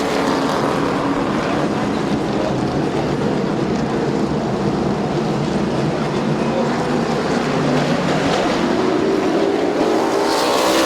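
Race cars at Midvale Speedway under green-flag racing, a continuous dense roar of engines lasting throughout, swelling slightly toward the end, with no clear speech.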